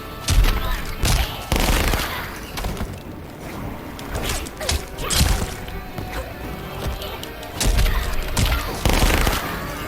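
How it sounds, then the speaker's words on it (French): Machine gun fire in Mortal Kombat 11 comes in heavy bursts of rapid, punchy shots, mixed with thuds and impacts from the fight, loud and close throughout. "Hop, prends-toi un coup de mitraillette."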